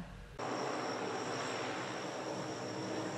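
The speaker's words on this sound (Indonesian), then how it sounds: "Ada dua unit pesawat Hercules tampak landing di Bandara Banyuwangi pada Jumat sore." Hercules military transport aircraft landing at Banyuwangi airport: a loud, steady engine and propeller roar that swells in abruptly and holds as a dense, constant drone.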